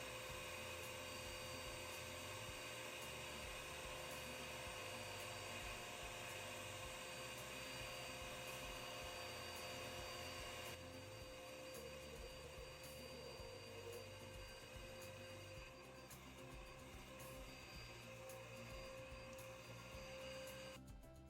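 Vacuum cleaner sucking dust out of a freshly drilled opening in a brick wall, a steady loud whining roar running continuously with a slight shift in tone partway through, no talking.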